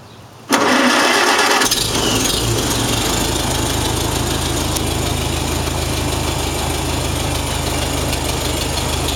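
A 1949 Farmall Super A tractor engine cranks and catches after a moment of quiet, then settles into a steady, loud, close idle with a low rhythmic chug that continues to the end.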